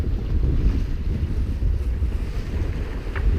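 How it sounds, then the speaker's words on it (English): A sailboat runs downwind on Lake Michigan near Gray's Reef with the mainsail boom out on a preventer, giving a steady rush of wind and water along the hull, constant and fairly loud with heavy wind buffeting on the microphone. "Got the mainsail boom out and got a preventer on it, so we're basically running with the wind."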